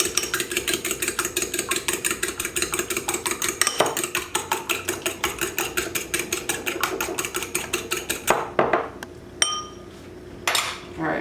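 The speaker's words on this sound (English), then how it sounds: "Whisk this up." An egg being whisked in a bowl in a home kitchen before frying boneless wings, with a fast, steady rhythmic clatter of utensil against bowl for about eight seconds, then a few scattered clinks and taps, no talking.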